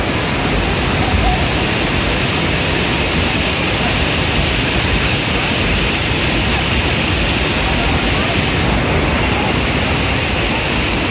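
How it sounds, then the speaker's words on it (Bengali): At Jaflong, a monsoon-swollen waterfall roars down from the hills as a dense, unbroken rush of water, loud and close, filling the whole scene. "উপর পাহাড়, সেই পাহাড় থেকে পানি এইভাবে গড়িয়ে গড়িয়ে পড়ছে, গর্জন করছে।"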